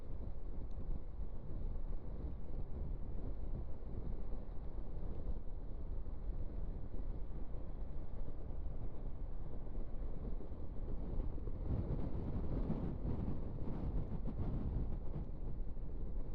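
Heavy wind buffeting while riding a Honda NC750X motorcycle alongside a KTM 390 Adventure, a constant loud low roar of rushing air swelling in gusts with no talk.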